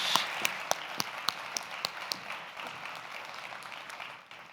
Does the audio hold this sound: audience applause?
yes